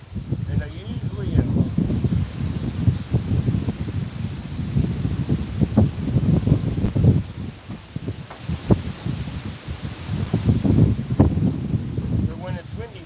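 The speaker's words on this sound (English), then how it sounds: "Can you even hear me with the wind?" Gusty wind buffets the microphone in uneven bursts, rumbling and rustling loudly throughout, with a voice speaking underneath.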